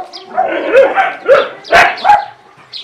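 Several dogs bark in a kennel, close and loud, with a quick run of overlapping barks and yips and no talking.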